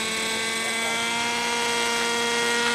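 A radio-controlled helicopter runs in flight during a training class, giving off a loud, steady, high-pitched rotor and motor whine that holds constant throughout.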